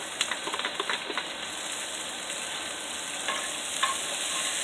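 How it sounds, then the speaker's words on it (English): Onions frying in organic olive oil in a pan, a bright, steady sizzle with a few stirring scrapes and taps early on, close and fairly loud. "we're going to put the onions in there. And let them start cooking."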